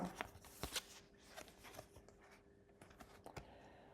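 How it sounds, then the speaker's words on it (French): Two cards drawn from a deck, a few soft close-up flicks and slides of card against card, very quiet with small sharp ticks spread over a few seconds. "Je tire 2 cartes."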